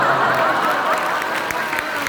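A studio audience claps in a dense, continuous burst of applause, close and fairly loud, with crowd murmur blended in.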